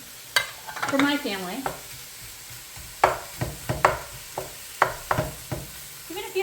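Two pounds of ground beef cooking in a pan for shepherd's pie, with a soft sizzle under repeated scraping stirs and clacks of a utensil, near and fairly loud, and a brief voice speaking early on.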